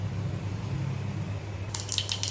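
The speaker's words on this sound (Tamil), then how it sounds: "கடுகு வெடிச்சிருச்சு" Mustard seeds sputter in hot oil for rasam tempering: a quiet low hiss, then a short cluster of sharp crackling pops near the end.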